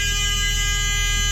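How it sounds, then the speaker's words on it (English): Rear emergency door alarm on a Thomas Built school bus, a steady continuous electronic buzz with a low pulsing hum, loud and unbroken throughout with no other sounds. "I want to make sure that the alarm goes off"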